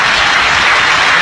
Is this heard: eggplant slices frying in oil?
no